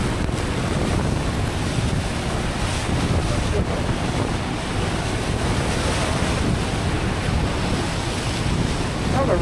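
Strong, steady wind roars continuously at Niagara Falls, mixed with a dense wash of spray and falling water, loud and close with no pauses.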